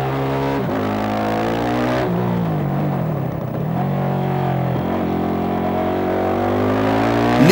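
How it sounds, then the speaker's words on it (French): Yamaha WRX-250 supermoto lapping a kart track in near-freezing weather, its single-cylinder engine droning loud and close with rising and falling revs as it accelerates and shifts through the corners, continuous with no talk. "Quelques tours pour chauffer les pneus, il fait pas loin de 0 degré, et la WRX procure sans attendre sa dose de fun."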